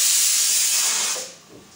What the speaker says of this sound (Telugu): చూడండి ఎలా మరుగుతున్నది